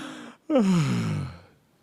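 A person imitates a yawn with their voice: a short intake, then a drawn-out falling vocal tone that fades to breathy silence, heard alone and close.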